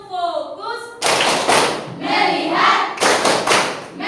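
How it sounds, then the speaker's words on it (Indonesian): Classroom clapping from a teacher and schoolchildren in Indonesia, loud rhythmic bursts of hand claps with thumps, separated by a speaking voice and children's chanting between the bursts. "Ya, kita berikan tepuk tangan dulu"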